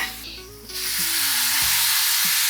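Food sautéing in a pan until golden, a steady close sizzle and hiss rising after a brief quieter moment, with a few soft stirring clunks underneath.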